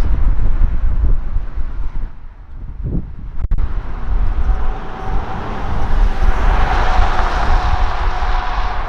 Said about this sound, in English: especially to cross the river because it's super windy here